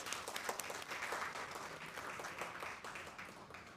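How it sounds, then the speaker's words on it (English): Audience at an academic session of a school of languages and literature gives a speaker a round of applause, steady massed clapping heard at a low, distant level. "Let's give him another round of applause"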